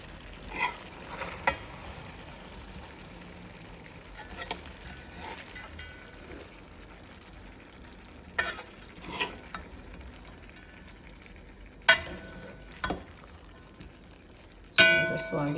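Spoon stirring ackee and chicken back in a pot, soft scraping and clinks over a low simmering sizzle, with occasional sharper knocks and a voice speaking.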